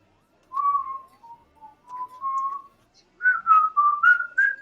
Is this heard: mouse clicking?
no